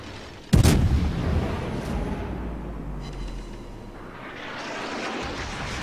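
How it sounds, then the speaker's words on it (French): Naval gunfire from the Bismarck battleship in World of Warships: one loud, sharp boom near the start, then a long rumbling decay under a steady hum of background noise. "Il tire à la hache ou c'est les secondaires qui tirent?"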